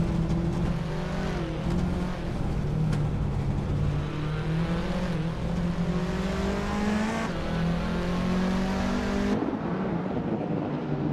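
Several race cars accelerate hard through a race, their engines rising in pitch with each gear and shifting abruptly. The roar is loud, continuous and close, with several engines overlapping.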